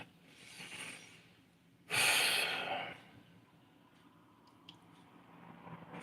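A person blows their nose once in a short, loud burst of breathy, wet rushing air, close by, with softer sniffing and breathing before and after.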